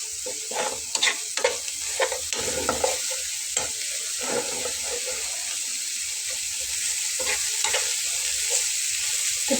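Vegetables get turned in a hot pan, producing a continuous light sizzle broken by frequent scraping stirs and soft knocks of the spatula, close by with no voices.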